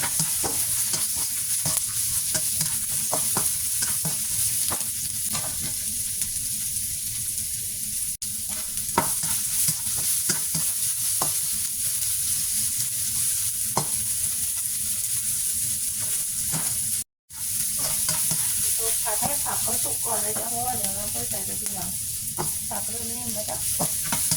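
Noodles, pork and vegetables stir-fried in a hot pan, a continuous crackling sizzle with frequent spatula scrapes and stirring clatter, briefly cut by a short gap near the end.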